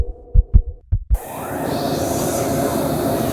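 A horror-story heartbeat effect thumps in a handful of deep, close beats, then gives way to a loud steady rumbling hum.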